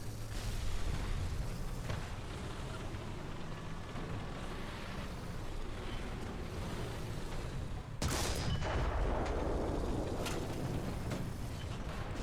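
Tank gunfire and shell impacts in War Thunder, striking a Panzer III N: a steady dense barrage of booms and rumbling explosions throughout, with a sharper burst of impacts partway through, loud and without talk.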